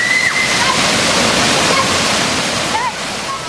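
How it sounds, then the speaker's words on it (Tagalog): Mag-Aso Falls, a 25-foot waterfall in Antequera, Bohol, pours with a loud, steady, close roar of rushing water that holds for the whole few seconds. "Malinis at malamig ang tubig ng talon na abot sa 25 feet ang taas."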